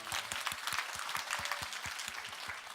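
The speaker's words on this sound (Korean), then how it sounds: "박수 부탁드립니다." Applause at a Korean Atomy Crown Master promotion ceremony, with a few nearby rhythmic claps standing out over the broad clapping of the crowd, moderately loud and steady.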